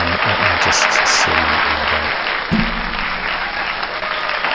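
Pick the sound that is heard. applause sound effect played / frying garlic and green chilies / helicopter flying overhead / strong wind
applause sound effect played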